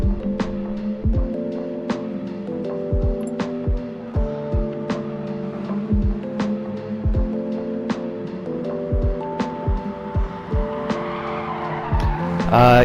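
A race car on hard tyres warming them up in the Gran Turismo Sport racing video game, with repeated loud tyre squeals and skids over a droning engine, bursts arriving in quick irregular succession.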